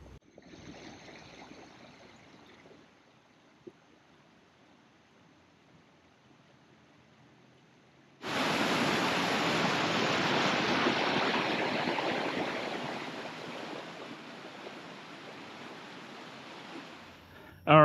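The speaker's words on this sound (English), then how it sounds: "I had no idea that there was a stream here" Water flows in a small stream in the Nicaraguan countryside, faint at first and then a loud, steady rushing wash that fills the second half, with no talk.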